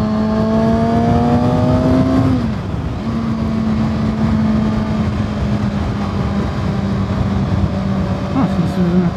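2022 Kawasaki Ninja ZX6R motorcycle engine, a loud, close, steady drone that dips briefly after about two seconds as the throttle eases, then holds an even note.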